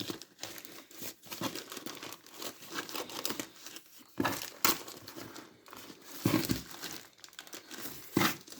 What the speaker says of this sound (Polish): to idzie folię rozerwać od ręki